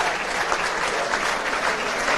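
Crowd applauding and cheering at a national senior outdoor track and field championship after a close 5,000 metre race, a dense, steady roar of clapping filling the whole moment without a break.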